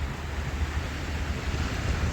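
Ocean waves wash along a coast in Perlis, a steady broadband surf roar mixed with wind buffeting the microphone, moderately loud and continuous with no voices.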